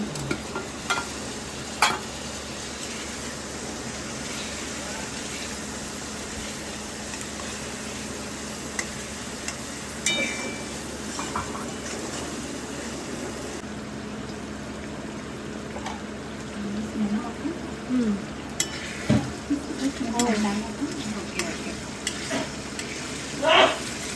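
Chopped onion fries with crushed garlic and ginger and sizzles steadily and densely in a pan. Now and then a spoon scrapes and knocks as it stirs, and the sound is close and continuous with no talking.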